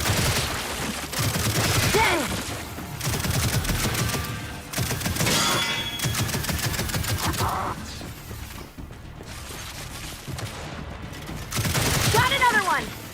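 Repeated loud bursts of gunfire, including sniper shots, fill a Gears of War firefight on Xbox, a dense, near barrage under shouted voices and clanking game effects.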